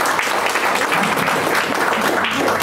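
A crowd at a book lovers' gathering gives loud, dense applause, a continuous wash of many hands clapping close by with no break.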